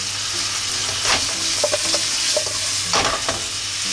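Canned corn kernels fry in a pan over high heat for a hamburg steak bento, giving a steady close sizzle broken by scraping stirs and light clatters.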